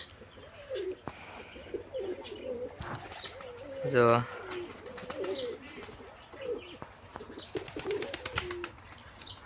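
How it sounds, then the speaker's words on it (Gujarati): Several pigeons perched together, some in a mango tree, give soft repeated throaty coos nearby, with a brief wing flutter and someone talking briefly over them. "અહીંયાથી આપણા કબૂતર મિત્રો આપણા બધા કબૂતર બેઠા છે"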